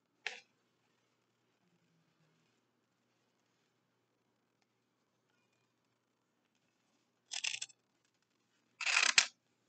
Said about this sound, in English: I'm going to cut this illustration.